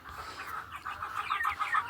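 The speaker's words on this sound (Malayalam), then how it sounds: "നല്ല കോഴിയാണ്, നല്ല വലിയ കോഴികളാണ് കേട്ടോ" Large laying hens, a mix of native, Sonali, Gramashree and Aseel chickens, cluck in a steady run of close, fairly loud calls that grow busier toward the end.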